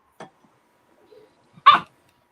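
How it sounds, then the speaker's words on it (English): A pet dog named Tia gives a single short, sharp bark at close range in an otherwise quiet room, followed by a softer earlier yip and faint rustling. "You wait till I get comfortable, then you start barking."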